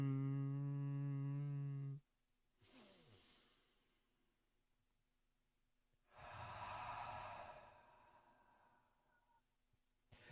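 A slow, deep inhale and exhale during a morning yoga session, a breathy rush of air rising and falling, heard after a sustained sung tone cuts off, with quiet pauses between breaths.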